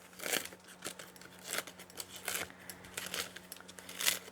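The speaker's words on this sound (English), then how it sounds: "So I'm just cutting up this dried mullein, and you can hear it crunching." Dried mullein leaves being cut up, giving a series of faint, dry crunching and crinkling snips that repeat irregularly at close range with no talking.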